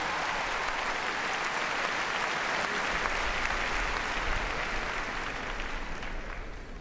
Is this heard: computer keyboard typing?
no